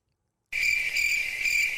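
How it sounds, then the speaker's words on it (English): Crickets chirp in a dense, shrill, continuous chorus that starts abruptly after a moment of silence and stays close and steady. "those are crickets, mate."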